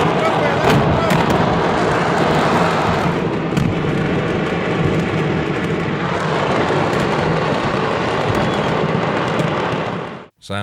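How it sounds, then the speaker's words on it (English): A chain reaction of fireworks explosions tears through San Pablito market as a loud, continuous roar of crackling blasts and bursts that cuts off abruptly at the end. "The incident was attributed to the mishandling of fireworks, which led to a chain reaction of explosions."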